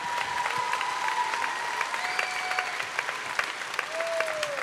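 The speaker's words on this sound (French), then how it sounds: "Et encore un tonnerre d'applaudissements pour notre girls band suisse." Audience applause in a concert hall at a children's singing competition final, moderately loud crowd clapping continuing throughout, with faint tonal stage sounds or music drifting in beneath it.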